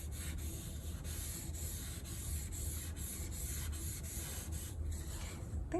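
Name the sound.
blending pencil shading on paper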